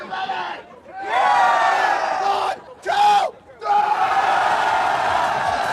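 A hyped crowd at a League of Legends esports match roars and yells in loud surging bursts, with brief dips between swells and voices chanting together.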